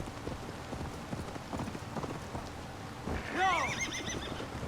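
A horse neighs in Assassin's Creed Valhalla, a clear whinny rising over a busy bed of hoofbeats and rain-like patter, loud and near toward the end.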